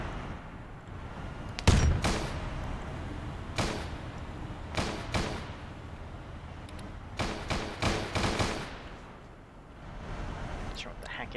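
Tank cannon firing in a Warhammer 40k video game, a series of sharp booming shots, one heavy blast followed by several quicker bursts spread across the stretch over a low background rumble.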